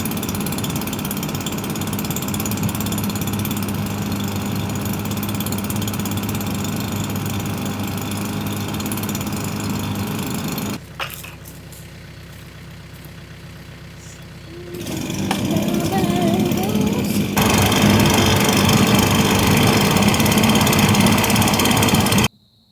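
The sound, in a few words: air blower running into a burning tree stump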